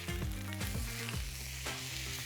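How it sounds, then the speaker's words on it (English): Steak sears in a hot pan on a teppanyaki-style surface, giving a loud, continuous sizzle and spatter close to the listener, with some scraping and stirring sounds mixed in. "Look at that sizzle."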